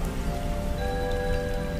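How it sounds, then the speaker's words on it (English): Steady, gentle rain falls continuously, a dense, even patter of raindrops on a surface with no voices over it. "May you envision gentle raindrops crossing your skin"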